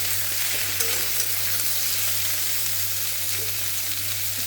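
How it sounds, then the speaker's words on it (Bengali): Onion and vegetables fry in a pan with a steady, close sizzle and crackle that holds at an even level throughout, with no talking. "পেঁয়াজটা দিয়ে আমি আরেকটু ভাজবো"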